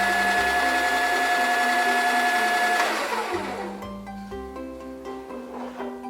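An electric grinder whirs loudly and steadily as it grinds coffee beans fine, then its motor winds down and spins out over the last few seconds, close by with no talking.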